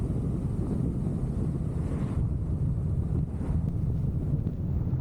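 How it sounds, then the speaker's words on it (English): Steady wind buffeting a microphone during an open-air ride heading east on Highway 243 toward Canton, Texas, with the breeze out of the north; a continuous low, rumbling roar holds at even loudness throughout, with no voices. "The wind is blowing out of the north"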